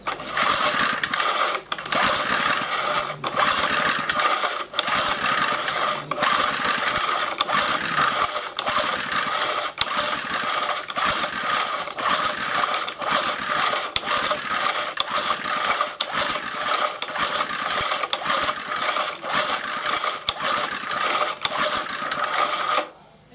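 A vintage barn-find Briggs & Stratton 2hp engine with the choke on is cranked over and over in a steady, rapid mechanical rhythm, each pull a dry clattering burst, close and loud, without firing, and no speech over it.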